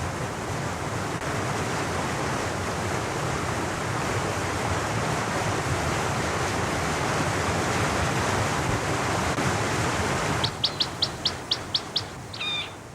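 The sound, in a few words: meltwater-swollen mountain stream rushing over cascades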